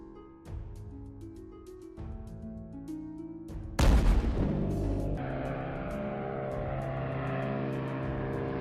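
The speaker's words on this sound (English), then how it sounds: "These Soviet-era aircraft, upgraded with modern avionics, typically carry cruise missiles and are powered by 4 turboprop engines, giving them a distinctive acoustic profile." Soviet-era Tu-95 bomber with four turboprop engines, a loud continuous droning roar with steady tonal hum that swells sharply near four seconds and then holds a sustained broad rumble, with no talking.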